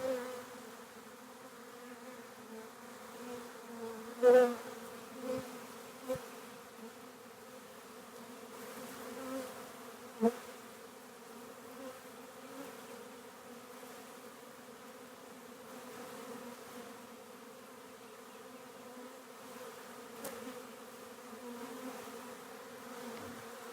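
A honeybee swarm moves into empty hive equipment, producing a steady, dense buzz of many bees that lasts throughout, with a few louder close fly-bys standing out briefly.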